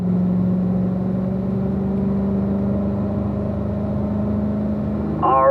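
A car engine holds a steady hum as the car drives a track course, lined up to run straight through a drop; the engine note stays loud and even, rising slightly at the very end.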